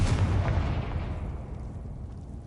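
A Confringo blasting spell goes off in Hogwarts Legacy. It makes one heavy, booming explosion that starts loud and rumbles away over the next couple of seconds, with no talk over it.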